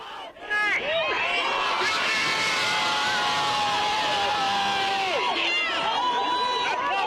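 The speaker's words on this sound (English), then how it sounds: "Outside the Minneapolis courthouse, crowds erupted in cheers when the verdicts were announced." A large crowd outside the Minneapolis courthouse erupts in loud, sustained cheering and shouting after the verdicts, with whistles and voices piling into a dense, continuous roar.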